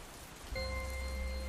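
Steady rain storm with dense, hissing rainfall on surfaces, loud and continuous, joined partway through by a sustained low rumble and tonal hum.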